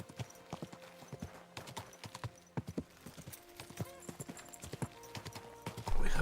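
Horse hooves clip-clop in Kingdom Come: Deliverance 2, a steady walking rhythm of distinct close hoofbeats, fairly quiet, with a louder swell of sound at the very end.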